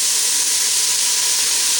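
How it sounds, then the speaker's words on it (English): Onions and celery sizzle steadily in a hot pot, a loud, continuous hissing crackle up close with no voices. "You can hear them sizzle a little bit."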